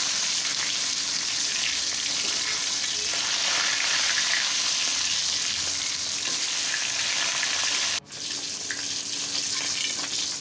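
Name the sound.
koi fish frying in mustard oil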